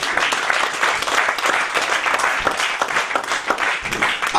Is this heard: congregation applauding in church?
yes